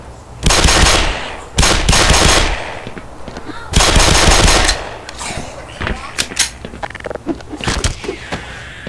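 Rapid automatic gunfire in Black Mesa, loud sustained bursts of close shots broken by short pauses, then scattered single cracks and impacts.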